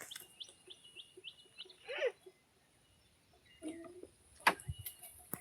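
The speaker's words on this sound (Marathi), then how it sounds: "रानात पक्षी विक्षी लय ओरडत आहेत" Several short bird chirps repeat across the clip, fairly faint and outdoors, with a brief louder call and a few soft rustles toward the end.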